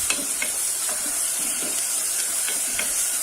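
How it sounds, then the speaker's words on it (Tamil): Tomatoes sautéing in a pressure cooker pan for a salna gravy, a steady close sizzle broken by periodic scrapes and stirs of a spoon, with no talk. "தக்காளி நல்லா வதங்கட்டும்."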